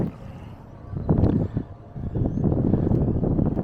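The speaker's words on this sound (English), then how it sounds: "Sorry, it's a little breezy." Outdoor breeze buffeting a microphone; low rumbling gusts come in uneven bursts, dull and close, swelling into a sustained roar during the latter half.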